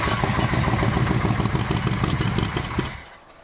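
A big-block GMC truck engine, pulled from a trash-filled shed, runs loud and close with a rough, fast, clattering beat, then cuts off and fades over the last half second.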